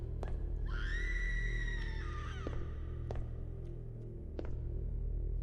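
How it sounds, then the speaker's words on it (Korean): A woman's long, high scream with strong harmonics holds for about two seconds, then bends downward and cuts off. Sharp clicks and a steady low hum sound around it, heard from inside a cave at an abandoned shrine. "여자 비명 소리."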